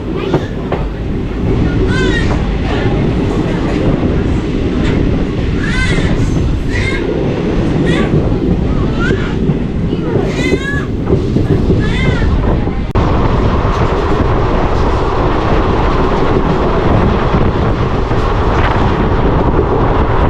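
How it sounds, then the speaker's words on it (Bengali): A train standing at platform 3 on the Katwa–Ahmedpur line, with a steady rumbling rail noise throughout, loud and close, broken by occasional squeals. Voices talk over it at times. "এখানে 3 নম্বর প্ল্যাটফর্মে বা 3 নম্বর লাইনে এই ট্রেনটা দাঁড়ানো আছে"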